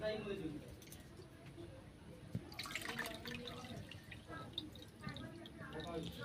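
Soaked dal lentils are washed by hand in water, with close, soft squishing, swirling and dripping sounds, and a voice talks faintly over them.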